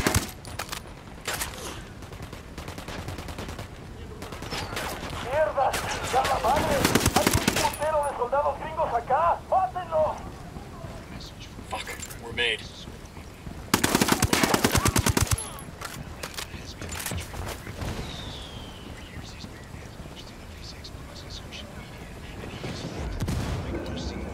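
Gunfire from the Ghost Recon Wildlands video game comes in rapid automatic bursts and scattered shots, loud and close, mixed with game effects and voices talking.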